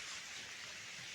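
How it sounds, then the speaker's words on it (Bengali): Rain falls over a village in Bengal during potato season, a brief, faint and even hiss with no distinct drops or thunder. "এখনও বৃষ্টি হচ্ছে।"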